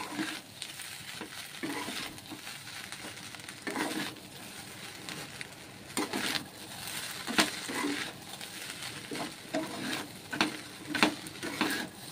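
Biryani masala being stirred in a pan makes repeated scraping, rustling strokes with light frying sizzle, irregular bursts of stirring rising and falling close by without speech.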